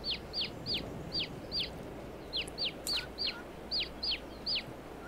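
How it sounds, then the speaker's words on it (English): Ducklings in Farming Simulator 22 peep repeatedly in high, sharp chirps, a dozen or so short calls in an uneven rhythm over a steady low background hum. "That's actually the ducks"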